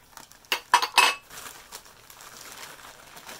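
Thrifted plates and bowls clink together in a few sharp, close rattles, followed by a softer, fading shuffle of handling noise.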